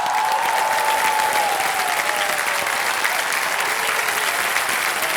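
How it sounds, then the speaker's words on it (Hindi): A studio audience on a quiz show claps in sustained, even applause that stays loud and unbroken throughout the clip. "तालियां बज जाएं इनके लिए।"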